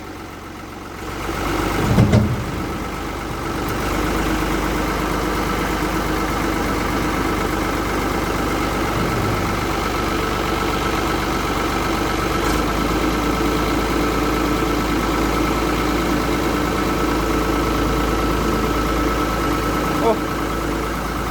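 A Ford 4630 tractor engine idles with a steady low rumble that settles in after a brief louder bump near the start, holding constant throughout.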